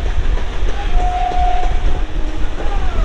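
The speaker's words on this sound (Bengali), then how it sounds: "এখন এইখানে ট্রেন দিয়ে যাচ্ছি" A KNJ–AHT local train runs from Krishnanagar toward Amghata, heard from on board as a loud, continuous rumble and rattle with a sustained horn blowing in the middle.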